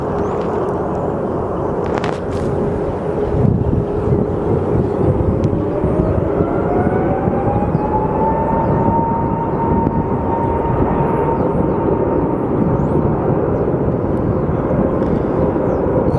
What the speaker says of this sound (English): I believe that is an A321. It might be one of their new Neos